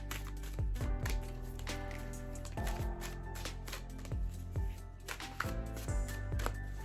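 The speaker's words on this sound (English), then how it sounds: "Let's give this a good shuffle." A deck of tarot cards being shuffled by hand, a series of quick riffling and tapping bursts close up, separated by short pauses, fairly quiet and with no talk.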